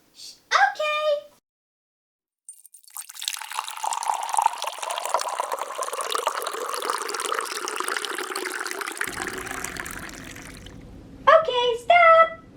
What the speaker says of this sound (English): we're going to use a liquid measuring cup to measure our oil